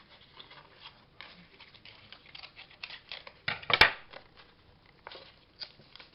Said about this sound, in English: I want to be cutting there like that.